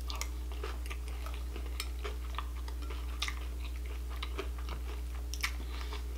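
Honey Bunches of Oats Vanilla Bunches cereal is chewed close to the mic, with soft crunches and bites repeating irregularly over a low steady hum.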